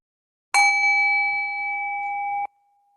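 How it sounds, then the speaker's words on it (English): A meditation bell is struck once to open a session and rings a clear, sustained tone that fades slightly for about two seconds before stopping abruptly, alone in silence. "1 bell to begin, 2 bells to end."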